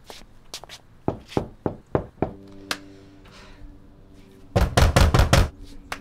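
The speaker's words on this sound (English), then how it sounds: "Maybe he can't hear me knocking." Several sharp knocks on a door, a few separated taps followed by a louder rapid burst of knocking near the end.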